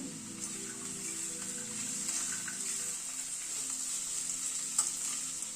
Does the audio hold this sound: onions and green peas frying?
yes